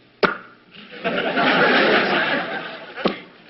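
A mouth-made pop or click, then a long breathy hiss, and another sharp click near the end; a voice imitating a punctuation mark, close and fairly loud.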